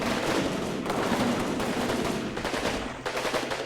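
Dense, continuous rifle and machine-gun fire from a WWII Normandy hedgerow battle in the PC game Combat Mission Normandy, loud and sustained with overlapping bursts and no talking.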